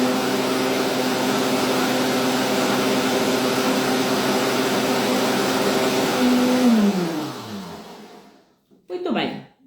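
A kitchen blender motor runs loud and steady, then winds down with a falling pitch and stops, followed by a brief knock as the motor base is handled while making sugar-free, gluten-free, dairy-free muffins.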